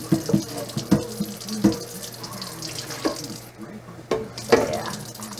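Water from a kitchen faucet streams steadily while a blender is rinsed under it, with clunks and knocks of the jar against the sink coming every second or so at close range.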